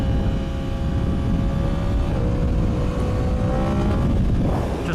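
Kawasaki ZX14R motorcycle engine pulling steadily under light throttle, a loud continuous drone with rising harmonic tones, close and alone without talk.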